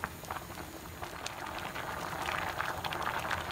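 Rice pudding simmering in a pot over low heat gives off a steady, soft bubbling and popping texture that continues throughout, close and fairly quiet, with no voices.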